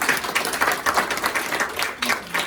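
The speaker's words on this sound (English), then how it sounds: "Okay, can you give Hoxing a big round of applause?" A business forum audience gives a loud round of applause, with dense clapping that rises and falls in waves over a couple of seconds, close and filling the room.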